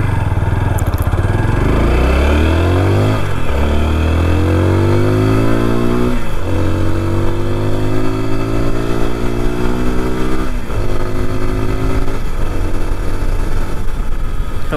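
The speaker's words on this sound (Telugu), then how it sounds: "బైక్ ఇనిషియల్ పికప్ అయితే ఈ విధంగా ఉంటుంది బ్రో." A TVS Apache RTR 160 4V, a 160 cc motorcycle, pulls away and accelerates through several gears, its loud, close engine note rising and dropping at each shift.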